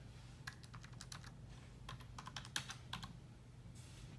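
Quiet keystrokes tap on a computer keyboard in short irregular bursts, a handful of clicks at a time with brief pauses, faint and close with a low steady hum behind and no talking.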